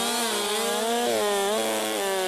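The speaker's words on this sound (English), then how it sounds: "the chainsaw. He knows how to run that thing." A chainsaw roars continuously through wood at the Port McNeill lumberjack competition, loud and close, its engine pitch wavering slightly as the cut progresses.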